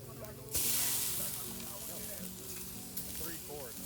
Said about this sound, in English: Oh my, an octopus over the coals.